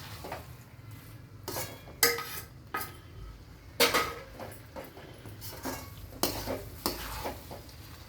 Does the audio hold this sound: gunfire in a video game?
no